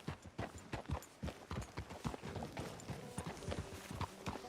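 A horse's hooves clip-clop in a steady, rhythmic trot in Red Dead Redemption 2 on PS4, fairly close and clear, with faint background murmurs.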